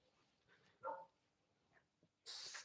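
A dog gives a couple of faint whines and a short yip-like sound, soft and somewhat distant, and a louder burst of broadband noise comes at the end.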